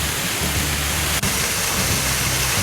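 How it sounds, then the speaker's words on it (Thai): Second tier of Sapan waterfall in Nan, Thailand: a steady, loud broadband rush of falling water, constant and close, with no talk. "อันนี้ชั้นที่สองนะครับ ของน้ำตกสปันนะครับ"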